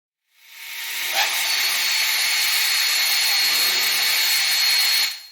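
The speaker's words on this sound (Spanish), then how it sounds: "Con un avellanador de 16 milímetros, ya que no tengo de 13 milímetros, abriré para que entre la cabeza" A 16 mm countersink bit grinds steadily into a screw hole in aluminium, a continuous close, bright hiss-like cutting whir lasting about five seconds before stopping abruptly.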